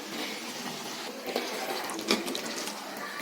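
A splash of water hits a pan of chicken pepper fry, giving a steady hissing sizzle close up with a few brief crackles and spits.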